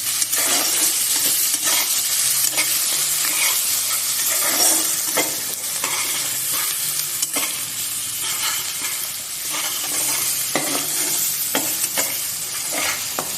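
Masala with ginger, garlic and four green chillies sautés for paneer butter masala, a loud continuous sizzle under repeated close scrapes and taps of a spatula stirring the pan.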